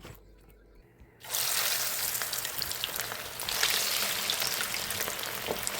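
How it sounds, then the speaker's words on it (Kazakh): Marinated fish is dropped into hot oil in a pan, and after a brief quiet moment a loud, crackling sizzle bursts up and continues steadily. "енді табадағы қызып тұрған майға қуырып ала саламын"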